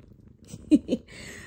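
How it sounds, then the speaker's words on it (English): A pet cat drifting off to sleep on a pillow at night, giving two short, soft purring rumbles close by in a quiet room. "He purring and everything."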